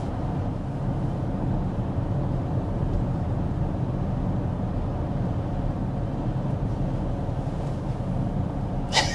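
Steady, even road roar fills the cabin of a 2025 BMW X6 cruising at 55 mph with the climate fan on its lowest setting, a soft broadband hush with no talking.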